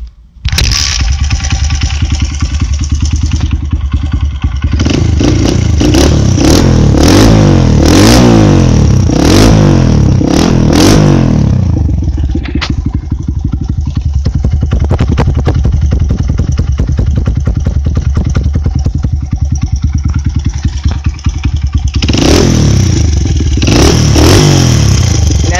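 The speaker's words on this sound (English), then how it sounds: "Okay, I'm gonna start the bike up." Honda CRF100 dirt bike engine with a slightly loose timing chain starting up, then revving loudly and repeatedly in rising and falling bursts before settling into a steady idle, up close.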